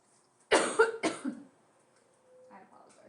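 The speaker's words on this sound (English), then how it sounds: "I apologize for my coughing today" A man coughs twice in quick succession, close and sharp against a quiet room, followed by a faint throat noise before silence.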